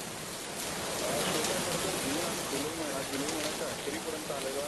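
Heavy rain with thunder pours steadily in Nagpur in a dense, hissing wash, with a voice speaking faintly underneath.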